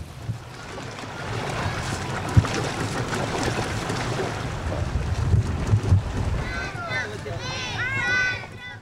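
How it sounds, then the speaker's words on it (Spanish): A small curiara boat crossing a river near a cattle ranch in the Venezuelan plains, heard as a steady rush of water and wind buffeting the microphone. Someone narrates throughout, and faint birdsong chirps near the end. "dirigir una pequeña embarcación, conocida como curiara, que se utiliza en los hatos que por lo general tienen un río cerca"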